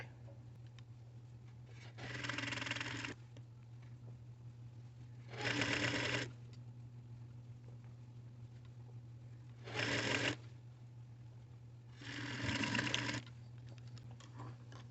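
A sewing machine stitches a pant pocket in four separate bursts of steady whirring, each lasting about a second, with a quiet electrical hum in the pauses between them.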